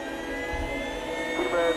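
A helicopter engine starts up with a high turbine whine rising over a low rumble, building briefly in pitch and loudness.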